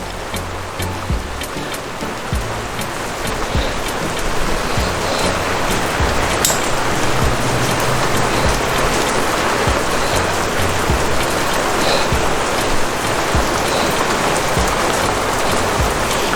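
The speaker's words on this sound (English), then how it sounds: "Man, can you hear that rain out there?" Heavy summer monsoon rain pours down outside a workshop where a 2007 Yamaha Raptor 700 ATV is being worked on, a loud, dense, steady wash of drops lasting throughout with no talk over it.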